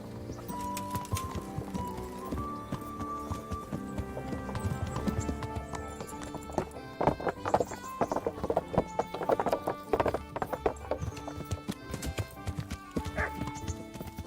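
Horse hooves clip-clopping in the video game Kingdom Come, rhythmic hoofbeats that grow louder and quicker midway over game music and ambience, with a brief whinny.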